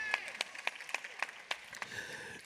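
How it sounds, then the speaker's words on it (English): Scattered clapping at a high school graduation ceremony, a handful of sharp, distinct claps spaced irregularly, fairly faint and sparse rather than a full ovation. "that deserves a applause"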